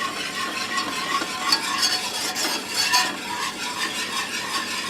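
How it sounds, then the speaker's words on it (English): Almond milk sauce is stirred in a pan with a spoon. It gives a soft, continuous bubbling sizzle broken by light scraping strokes and faint clinks, with no talk. "Stir that around in there real nice"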